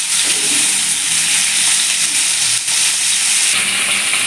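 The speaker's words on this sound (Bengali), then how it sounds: "পটলটা একটু হালকা বাদামি করে আমি ভেজে নেব" Pointed gourd (potol) frying in oil with turmeric until light brown, a loud, close, continuous sizzle and hiss with faint stirring.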